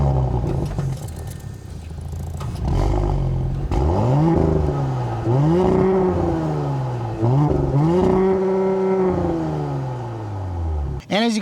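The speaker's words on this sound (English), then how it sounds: "which I'll let you guys hear what the engine sounds like real quick." A 2020 Audi S4 sport sedan with quad exhaust revs up and down several times in rising and falling sweeps, a deep throaty exhaust note, loud and close, ending in a brief clatter.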